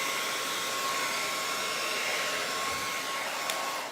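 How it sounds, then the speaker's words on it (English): A hand dryer blows in a steady, loud, close whoosh while a Bichon's coat is brushed during drying at a housecall grooming session. "use a hand dryer and you want to brush while you're drying"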